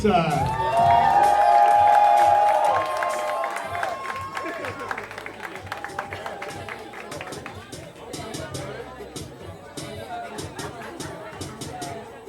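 A crowd claps and cheers loudly as an athlete is introduced at a women's left-arm armwrestling match, the applause swelling at once and then fading into scattered claps and chatter.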